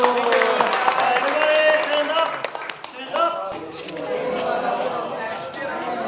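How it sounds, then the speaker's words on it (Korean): Students and a teacher in a Cambodian classroom applaud together, steady close clapping mixed with lively voices and chatter throughout. "오케이, 박수"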